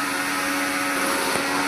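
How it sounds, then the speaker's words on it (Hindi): A mixer grinder whirs steadily at close range in a kitchen, a constant high-pitched motor drone with no pauses, and no voices. "मिक्सी चल रही है गाइस, साउंड कम आ रहा है"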